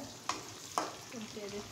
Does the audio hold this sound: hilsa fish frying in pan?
yes